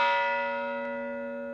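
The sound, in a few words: ship's bell salvaged from the USS Arizona ringing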